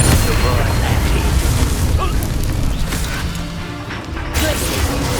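Confringo explosive spell blasts in the video game Hogwarts Legacy, loud booming crashes in dense, chaotic combat with a voice shouting over them.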